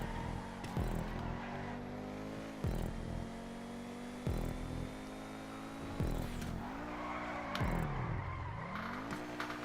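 A car drifting in GTA Online hums along with a steady engine drone, punctuated by repeated tire screeches and skids, including a long sliding squeal near the end, with no talk.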